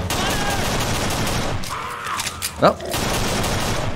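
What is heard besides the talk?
gunshots in a zombie video game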